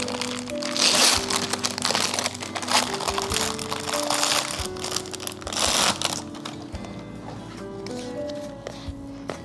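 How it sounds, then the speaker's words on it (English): Chocolate chip cookie dough is pressed and smashed by hand into the bottom of a cast iron skillet, giving repeated crunchy, crinkling squishes in an irregular rhythm, close and fairly loud. "I'm just going to smash it down and get the whole bottom of the skillet just covered in our chocolate chip cookie dough"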